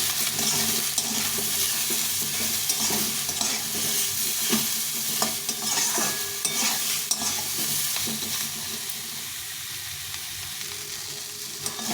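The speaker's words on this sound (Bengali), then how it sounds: "আর হলুদ গুঁড়ো দিয়ে এটাকে একটু ভালো করে ভেজে নেব" Greens with turmeric powder frying in a pan, a loud dense sizzle running throughout with frequent stirring scrapes, close and steady.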